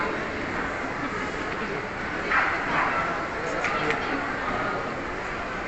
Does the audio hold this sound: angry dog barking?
yes